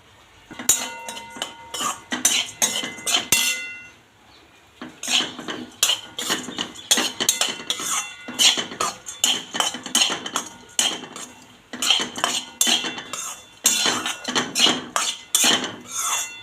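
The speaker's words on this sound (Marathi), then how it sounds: "आणि खोबरं आता तुपात फ्राय करून घेऊ।" Dried coconut is stirred as it fries in ghee in a pan for dry-fruit laddoos, with a spoon clinking and scraping rapidly against the metal in dense, rhythmic bursts throughout, close and fairly loud.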